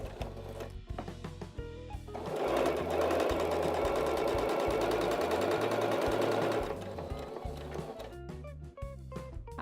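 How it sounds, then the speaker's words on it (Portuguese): Sewing machine stitching fabric for a cat-themed crib bumper, with short bursts of rapid needle chatter, a longer continuous run in the middle, then more brief bursts. "passo uma costurinha aqui por dentro e deixo só aqui na parte reta aberto para a gente virar a peça"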